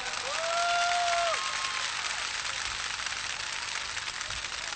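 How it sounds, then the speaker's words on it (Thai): Applause from a crowd at a political rally of the UDD red-shirt movement at Phutthamonthon, Bangkok, a broad steady patter that swells early and then holds. A brief sustained tone rises over it near the start. "ปรบมือให้พวกเราทุกคนครับ"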